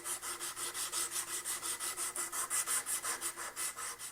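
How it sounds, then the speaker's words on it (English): A wooden bottle opener is sanded with flexible 150 grit sandpaper backed with duct tape, a close, rhythmic back-and-forth scratching of about five strokes per second, steady and even throughout. "I have a piece of 150 grit sandpaper that's backed with duct tape"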